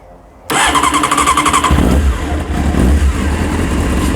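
A Honda Hornet 600 motorcycle starts up after half a second of quiet and settles into a loud, steady idle with slight throttle blips, close by, with no talk.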